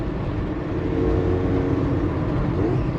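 Carbureted Mazda RX2 rotary engine with Gilmer belt drive running steadily and loudly close by, a dense continuous drone with a faint whining tone on top, no voices.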